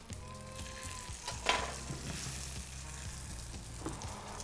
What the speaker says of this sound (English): Place the lamb belly on the frying pan until caramelized on both sides